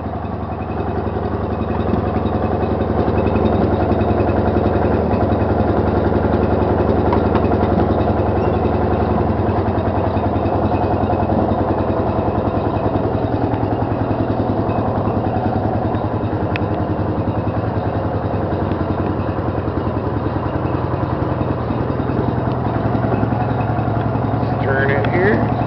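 A large second-hand lawn tractor engine idles and runs steadily with a low, vibrating rumble, loud and close, holding an even drone for the whole stretch.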